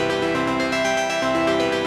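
Prophet 12 synthesizer arpeggio on the Glimmer arp snapshot preset, a dense shimmering stream of steady rippling notes over sustained harmonics, loud and continuous with no voices.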